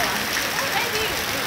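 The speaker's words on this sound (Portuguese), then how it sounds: "Chuva em Petrolina, no sertão pernambucano." Heavy rain pouring down in Petrolina, in the Pernambuco backcountry, a steady dense broadband hiss of water close by with no pause, masking everything else.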